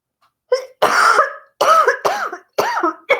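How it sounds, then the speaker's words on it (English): Five or six harsh coughs in quick uneven bursts, close to the listener, with short silent gaps between them. "I hate this cough."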